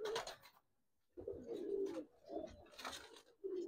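Giribaz and coloured pigeons coo in low, throaty rolling phrases, close and fairly soft, with a short pause and then repeated bursts of cooing.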